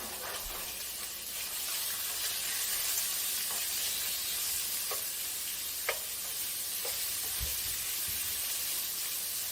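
Chicken stir-frying in a pan over medium-high heat, a steady loud sizzle and hiss running throughout, broken by scattered scrapes and taps as the pieces are tossed.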